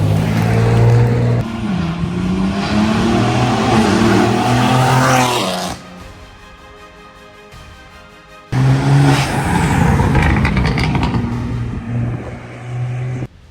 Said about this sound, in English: That's MAD Catless downpipes on a G80 M3.